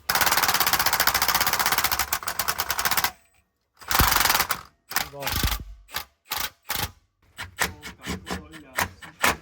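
Pneumatic impact wrench bolting a McLeod clutch and lightweight flywheel onto a 1999-2004 track Mustang: a long loud rattling burst, then a pause and repeated short hammering bursts in a staccato rhythm, close up.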